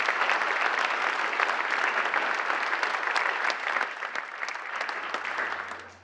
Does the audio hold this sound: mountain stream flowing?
no